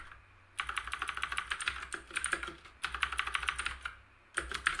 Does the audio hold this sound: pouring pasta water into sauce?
no